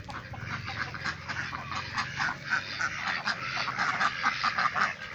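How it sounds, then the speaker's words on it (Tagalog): Muscovy ducks and other farm ducks make a dense, overlapping chorus of raspy, breathy calls, close and continuous across the whole stretch without any talking. "Ito po, mas Muscovy duck po ito."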